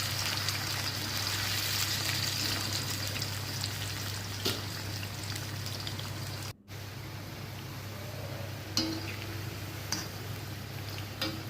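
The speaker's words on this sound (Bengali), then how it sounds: "এবারে অল্প অল্প করলা নিয়ে এটাকে একেবারে ডিপ ফ্রাই করে ভেজে" Pieces of bitter gourd deep-fry in about a cup of hot oil, giving a soft, continuous bubbling hiss under a low hum, with a brief cut midway and a few faint clinks.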